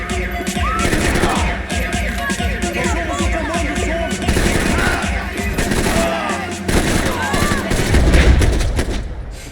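Rapid video-game gunfire from Max Payne, a dense fusillade of shots and bursts layered over an adrenaline-pumping soundtrack, loud and continuous throughout.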